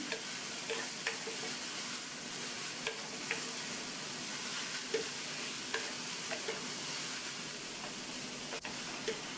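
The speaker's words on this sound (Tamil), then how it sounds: "டர்னிப்பை சேர்த்துட்டு நல்லா ஒன்றா மிக்ஸ் பண்ணி விட்டுக்கணும்." Boiled turnip is stirred into a coconut mixture in a pan, a continuous close sizzle and hiss broken by regular light scraping strokes of the spoon, with no talking.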